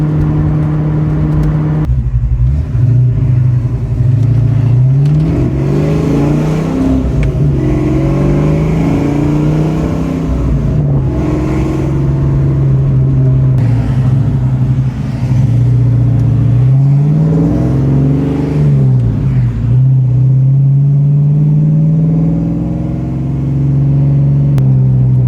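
A Fox Body Mustang V8 revs repeatedly through an off-road H-pipe exhaust, loud and close, with a deep burbling idle between rising and falling throttle blips.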